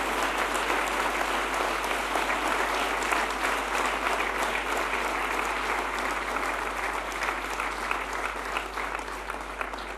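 A large audience at the IT Conclave applauds the Prime Minister, a thick, continuous roar of clapping that holds steady for the full stretch and tapers only slightly near the end.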